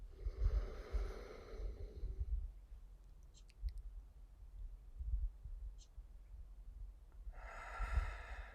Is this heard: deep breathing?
yes